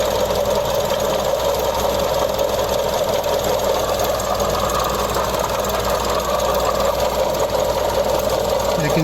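Mazda CX-30 engine running, heard up close near the pulleys while checking for a bad water pump: a steady, loud mechanical whir with fast ticking, knocking texture and a high whine, unbroken throughout.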